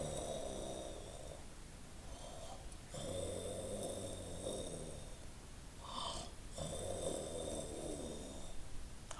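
A child imitates snoring with three or four slow, rasping snore breaths, each followed by a pause, fairly faint and alone while acting out the wolf from Little Red Riding Hood.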